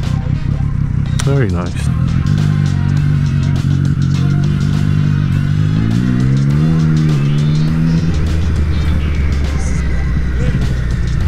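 A BMW M3 passing on a London street, its engine revving and the pitch sweeping up and down as it goes by close and loud, with a rider's voice and traffic noise around it.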